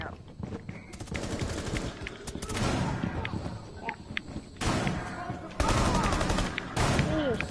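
Gunfire in the tactical shooter Rainbow Six Siege comes in repeated bursts of rapid automatic shots, sharp and loud, broken by short pauses and scattered impacts.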